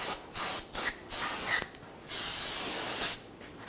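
Spray cleaner hisses onto a brake rotor of a 2011-2015 Kia Sorento in several short bursts followed by two longer sprays, close and crisp, with no talking.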